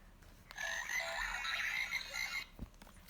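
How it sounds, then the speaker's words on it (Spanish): A children's animal sound book plays a recorded frog croak, a short, buzzy, rattling electronic call lasting about two seconds, fairly quiet and heard on its own. "Una rana."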